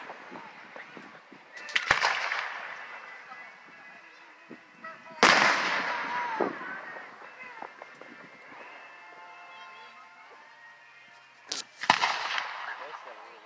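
A Fourth of July fireworks show bursts in three sharp, loud booms spaced several seconds apart, each trailing into crackling decay, with quieter popping and distant noise in between.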